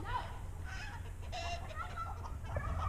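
Chickens cluck at a fence after a dog has gone after them, several soft calls over steady low background hum, moderately close.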